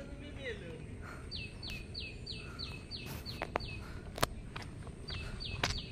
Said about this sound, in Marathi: पक्ष्यांचा आवाज आहे का मित्रांनो?